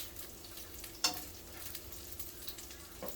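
Breaded honey garlic salmon fries in a pan with a faint, continuous sizzle, broken by a few soft crackles and pops.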